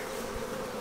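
Honeybees drone steadily as they return to a homemade hive, a continuous close buzzing hum with no breaks over a short moment.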